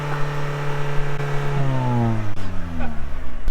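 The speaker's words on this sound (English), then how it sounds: "It sounds like it's backfiring." A 2020 Toyota Camry S engine revs and then settles, its pitch falling in a smooth sweep while sharp pops crackle from the exhaust, heard close with no talk.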